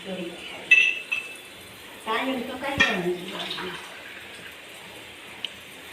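Food being set onto a dish in a home kitchen while cooking raw mango curry, with sharp metallic clinks and utensil clatter against the plate, close, amid people talking.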